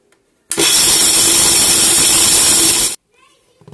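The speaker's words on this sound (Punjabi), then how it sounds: "ਦਰਦਰਾ ਮੋਟਾ ਹੀ ਪੀਸ ਲਵਾਂਗੇ" An electric kitchen grinder whirs loudly for about two and a half seconds while coarsely grinding almonds and cashews for panjiri, a harsh steady roar starting and stopping abruptly amid quiet surroundings.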